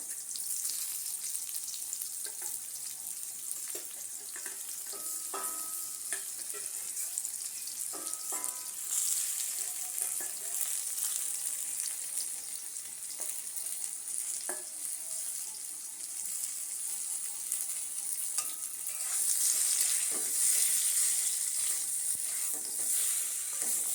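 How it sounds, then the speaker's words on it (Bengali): Potato slices fry in a pan with a continuous close sizzle and crackle. Occasional scrapes and clinks from stirring sit over it, and the sizzle swells louder near the end. "সুন্দরভাবে ভাজা হবে"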